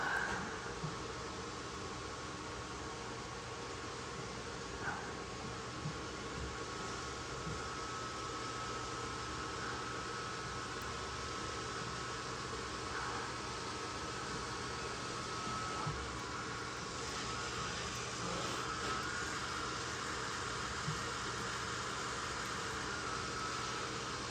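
A vacuum cleaner drones steadily in the background for the whole stretch, a constant even whir of air and motor at moderate distance, with no talk over it.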